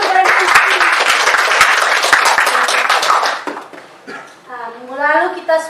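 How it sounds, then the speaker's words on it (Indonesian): A classroom of students applauding a classmate, a brief burst of many hands clapping that dies away after about three seconds, followed by a voice speaking. "Tepuk tangan untuk Reni."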